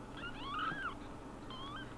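Newborn kittens just beginning to open their eyes give thin, high mewing cries: one longer rising-falling meow early on, then a fainter second mew, heard close over a steady low background hum.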